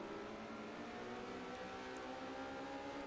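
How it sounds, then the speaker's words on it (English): Ferrari 988 race car in an ORLSA Exotic GT race on its final lap, a steady, sustained engine drone that stays fairly faint and distant throughout, with no talk. "just listen to that engine as he goes on his final lap to take the checkered flag"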